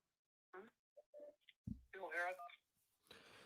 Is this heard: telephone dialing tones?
yes